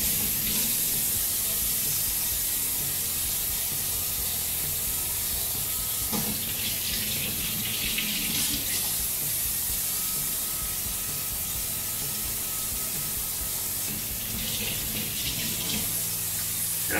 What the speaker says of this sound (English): Give them a little rinse off.